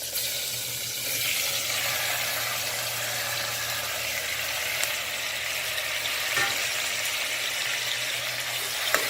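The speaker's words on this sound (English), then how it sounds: "And fry it to a light golden brown on a medium flame." Marinated mutton frying in desi ghee over a medium flame, a steady, even sizzle that holds close and constant throughout.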